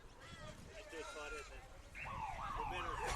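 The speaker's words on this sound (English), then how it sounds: "As a full-time siren sounds" A full-time siren sounds at a women's university rugby sevens final, rising and wavering loudly near the end over crowd noise and a commentator's voice.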